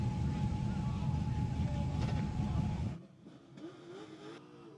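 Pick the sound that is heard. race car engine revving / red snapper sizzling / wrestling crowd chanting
race car engine revving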